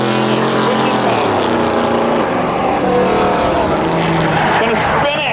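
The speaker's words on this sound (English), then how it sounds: "Gonna spin it over in 3 and lose it." A race car spins out on the Seekonk Speedway oval during spectator drags, engines roaring loudly with tire squeal and skidding as cars pass close, an announcer talking over the din.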